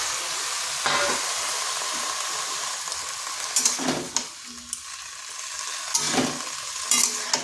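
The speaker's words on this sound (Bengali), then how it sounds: "আলুগুলো ভাজা ভাজা হয়ে গেছে। এরপর এখানে দিয়ে দিচ্ছি এই কুমড়ো শাক আর পাতা।" Pumpkin greens and tender leaves go into a pan of fried potatoes, bringing a close, steady sizzle and hiss, several louder scraping stirs, and bursts of crackle as the greens hit the oil.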